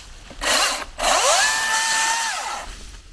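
A Milwaukee battery-powered top handle chainsaw cuts through tree limbs, giving two loud, close bursts of motor whine, the second rising and then falling away as the cut finishes.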